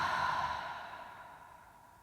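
A single soft, slow exhale during a gentle yoga session fades gradually, faint and breathy with no voice over it.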